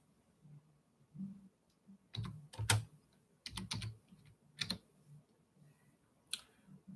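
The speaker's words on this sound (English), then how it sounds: "Let me type something here." Typing on a computer keyboard during a live stream, irregular clusters of sharp key clicks and taps, close but fairly quiet, with short pauses between bursts and no talk.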